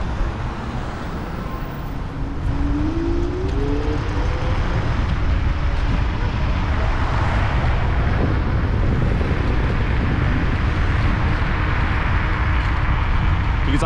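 A 5600-watt electric scooter rides through city streets in a soft mode, giving a steady continuous rolling and wind roar with faint traffic-like hum throughout.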